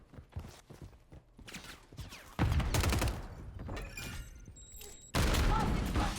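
Two heavy explosions boom in a video-game firefight during camo grinding, each a sudden loud blast that rumbles on, with sparse gunfire and brief talk between them.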